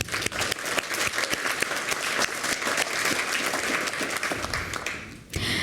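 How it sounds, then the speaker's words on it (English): An audience applauds steadily at a human rights awards ceremony, dense clapping throughout, ending abruptly near the close. "please join me in giving these individuals another round of applause"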